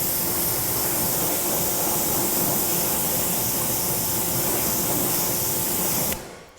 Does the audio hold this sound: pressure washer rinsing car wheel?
yes